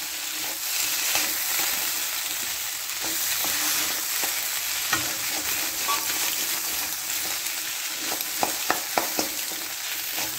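Tapioca egg fry stirred in a pan with chilli and pepper: a steady, close frying hiss with intermittent scrapes and light utensil taps on the pan.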